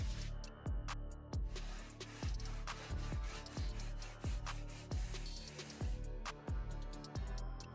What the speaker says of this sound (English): Some surface sanding was needed to remove those small tear outs.